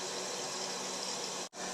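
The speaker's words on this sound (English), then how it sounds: "Here we are at about 40 minutes into filling up the WaterBOB." Water pours steadily from a tap into a WaterBOB storage bladder in a bathtub, making a continuous close rushing hiss that cuts out abruptly for a split second near the end before resuming.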